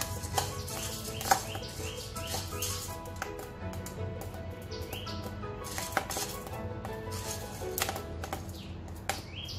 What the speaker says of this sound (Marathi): आहे त्या गरम कढईवर आपण भाजून घेऊ उरलेले.